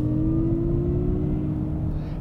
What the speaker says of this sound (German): je mehr ich das Gaspedal, das Strompedal durchdrücke, desto prägnanter wird dieses Geräusch.